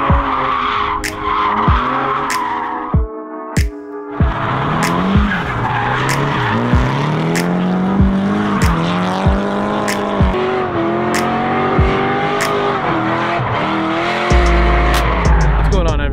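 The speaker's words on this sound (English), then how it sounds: "our Wednesday night drift night where we are going to use the Corvette and all 435 horsepower to test these two tires" A 435-horsepower Corvette drifts on a racetrack on drift night, its tires squealing in long wavering screeches over a loud, rising and falling engine, with sharp bursts at intervals.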